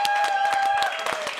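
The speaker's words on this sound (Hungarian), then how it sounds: "Köszönöm szépen a lelkes tapsot" A television talk-show studio audience claps steadily in a lively, sustained round of applause, mixed with tonal music.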